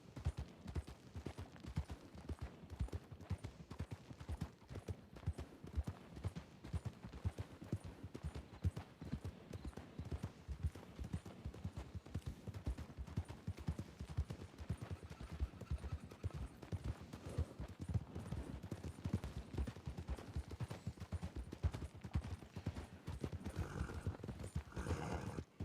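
A horse ridden at a steady pace in the video game RedM, its hooves clip-clopping in a continuous, quiet rhythm for a long stretch, with occasional whinnies.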